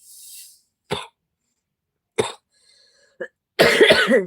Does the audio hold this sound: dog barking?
no